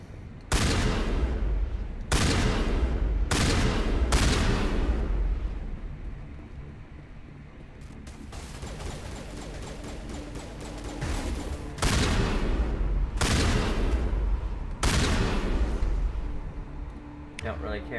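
Shotgun blasts in Mass Effect come as loud, close, booming bursts, about seven spread unevenly over the span. A quieter stretch of clattering combat noise falls between them, and someone talks at times.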